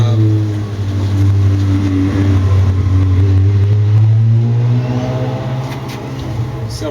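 A car revving hard and accelerating through a nearby alley, a loud sustained engine roar that swells and holds for several seconds before easing off slightly.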